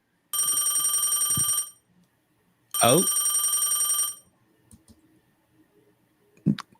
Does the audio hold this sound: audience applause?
no